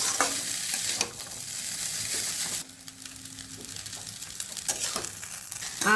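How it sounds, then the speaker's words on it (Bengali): Tiffin-box style Bengali chow mein noodles stir-fried in a pan, with steady close sizzling broken by repeated scraping and tossing strokes of a spatula over six seconds, loud and with no talking. "এবার সুন্দর করে ভাজা ভাজা করে নাও।"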